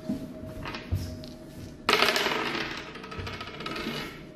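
Magnetic pieces of the Clack stacking game clatter and snap together on a table in a few quick clacks, followed by a longer rattling burst of pieces shifting, close and with no talking.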